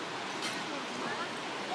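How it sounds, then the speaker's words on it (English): Pistyll Rhaeadr waterfall in North Wales gives off a steady, broadband rush of falling water, heard from a moderate distance as an even hiss without breaks. "Look, waterfall."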